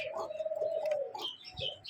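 A bird gives a brief, close tonal call with chirpy notes over a faint background murmur.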